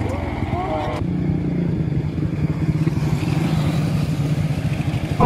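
Motorcycles on a road during a long ride toward Gabaldon, Nueva Ecija, give a steady, fairly close engine drone that runs through the whole stretch under people talking.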